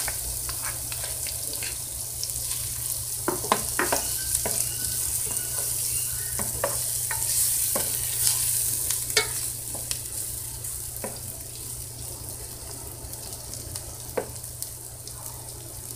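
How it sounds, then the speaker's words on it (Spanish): Garlic and onion frying in a pan for a traditional beef stew, a steady soft sizzle broken by scattered clicks and scrapes of stirring, with a low hum underneath and no talking. "Y aquí vamos a freír el ajo."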